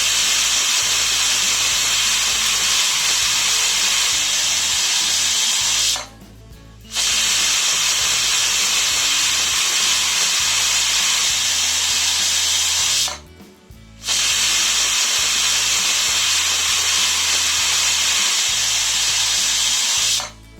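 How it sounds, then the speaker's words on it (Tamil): A pressure cooker on high flame, weighted and cooking cabbage, vents steam in loud, steady hissing whistles, three long bursts separated by brief pauses. "குக்கர் 3 விசில் விட்டுட்டு நான் அடுப்பு ஆஃப் பண்ணிட்டேங்க"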